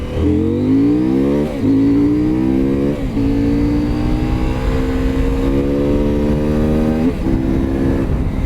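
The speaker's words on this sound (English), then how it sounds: "It is the sound that this bike makes" A stock 2023 CFMOTO Ibex 800T adventure motorcycle engine revs repeatedly, climbing in pitch with each blip, loud and close, with no voices.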